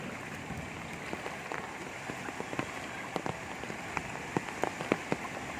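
Rain falls onto a flooded, waterlogged street in Kolkata, a soft continuous patter dotted with sharper drop splashes, faint and steady with no talking.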